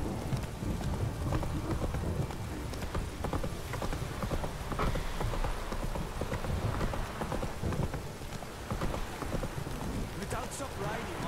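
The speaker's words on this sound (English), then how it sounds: "stop raining, my arse will rot off." Steady rain pours in the Witcher 3 video game world, a continuous dense hiss with scattered drops, mixed with clip-clop of a horse's hooves and low game ambience, with someone talking now and then over it.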